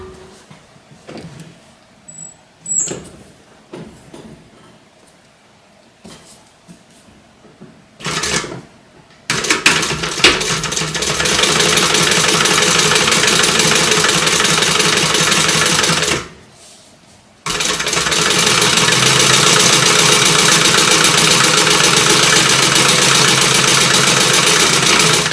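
Sewing machine topstitching a slip pocket, starting after some quiet handling noises with a steady loud whir, pausing briefly, then running on continuously at an even speed.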